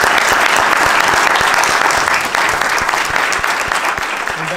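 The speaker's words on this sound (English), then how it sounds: "Let's give a round of applause to Dr." Audience applauds a guest speaker at the end of a talk on future warfare, thick and continuous clapping from a crowd, loud and near, tapering slightly toward the end.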